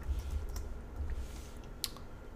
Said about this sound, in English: I'm going to hit Control X on my keyboard